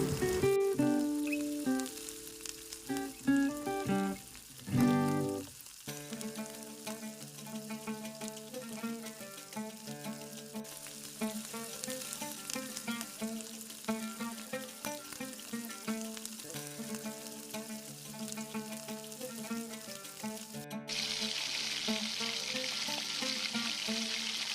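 Tomatoes sauté in a pan over a low flame with a steady gentle sizzle, heard under background music that plays throughout, and a louder hissing stretch near the end.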